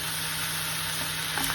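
Pasta being stirred with pepper powder and chili powder in a pan, a steady close sizzling hiss with soft scraping, no voices.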